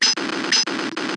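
Shooting at a lobster in the classic Macintosh game Crab Attack gives two quick, bright electronic zaps in a row, each a short buzzy burst with a ringing high tone.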